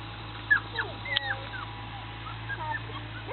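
A Shiba Inu puppy whimpers and yips in short, high, wavering cries scattered through a steady low background hum, moderately close and fairly quiet.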